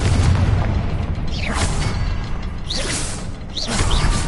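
Fiery spell blasts from the Confringo curse in the video game Hogwarts Legacy burst in several loud whooshing explosions amid ongoing combat noise, spaced about a second apart.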